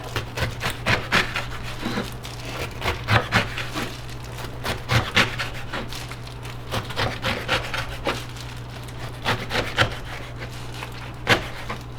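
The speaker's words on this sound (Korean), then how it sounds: "먼저 이렇게 김치를 썰어 주시고요" Repeated knife chopping through kimchi on a wooden board, quick uneven cuts with short pauses between runs, close by, over a faint constant hum and no talking.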